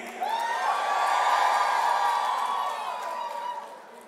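An alumni crowd at an inauguration event erupts in loud cheering, whoops and high-pitched shouts that swell quickly, hold strongly, then ease off toward the end.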